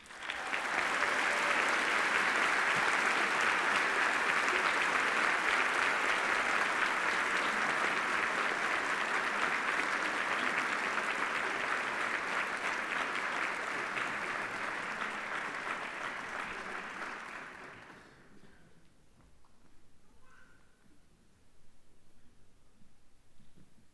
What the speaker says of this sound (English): could you please give a big round of applause for the recipient of the 2019 Mackenzie Bennett Memorial Scholarship